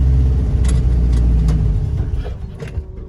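A 1975 International 200 pickup engine runs loud and close, a steady low rumble with a few revs; it eases off toward the end.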